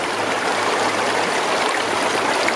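A small creek flows in a steady, close rushing wash of water with a light trickling texture, continuous and alone with no voices.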